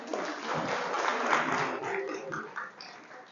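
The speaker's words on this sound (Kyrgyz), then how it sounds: "Бир кол чаап койгула ошого." An audience breaks into applause at a live event, a dense, sustained wash of clapping that stays steady and then thins out toward the end.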